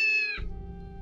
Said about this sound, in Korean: 그런데 갑자기 어디선가 고양이 우는 소리가 들렸습니다.